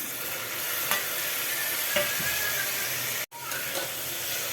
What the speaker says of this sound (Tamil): நல்லா வதக்கி விட்டுக்கலாம் தக்காளியை.